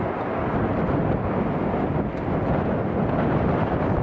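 A Virgin airliner lands on runway 27 right at windy London Heathrow, a steady, continuous broadband roar of jet engine and wind noise holding at constant loudness throughout.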